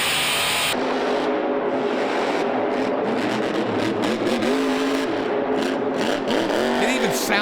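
A Monster Jam monster truck engine roars loudly and continuously during a freestyle run, revving up and down in rhythmic throttle bursts, with an announcer talking over it.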